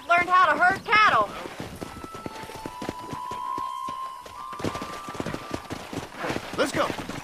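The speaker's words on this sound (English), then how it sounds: "Control that horse, will you?" Horse hooves clip-clop steadily in the Western video game Red Dead Redemption, with a continuous rhythm of hoofbeats and a faint sustained tone in the background. Voices talk over the opening and the closing seconds.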